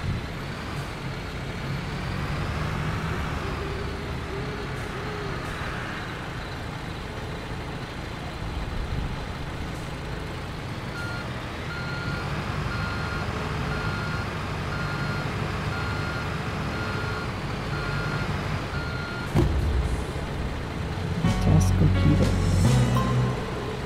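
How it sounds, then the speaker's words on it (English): A dump truck in Construction Simulator 3 reverses with a steady electronic backup beep repeating under a constant engine drone, which grows louder and rougher near the end. "we're gonna back up this truck on that marked area there to dump the"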